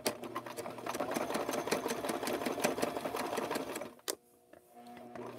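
A domestic sewing machine runs steadily, stitching a wave pattern into a coiled rope bowl, its rapid mechanical clatter close and continuous for about four seconds before stopping, leaving a quieter motor hum.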